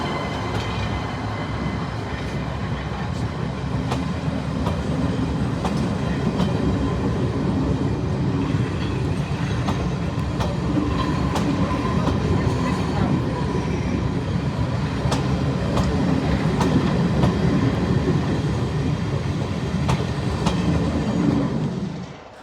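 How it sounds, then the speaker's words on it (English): A Class 99 locomotive-hauled train running on the Swanage Railway during a diesel gala, a loud steady rumble of wheels and rail noise with rhythmic clicks throughout, fading slightly at the end. "I think this train looks absolutely stunning, but sounds rather interesting."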